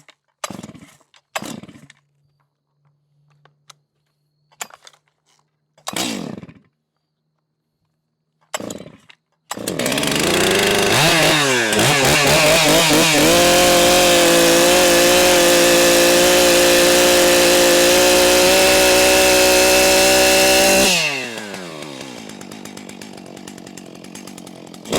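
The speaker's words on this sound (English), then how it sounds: "because Ava doesn't like the chainsaw." Chainsaw cutting up wood in a backyard: after a few short pulls and sputters, the engine roars up loud and close, holds a steady high whine for about eleven seconds while cutting, then drops back to a lower idle.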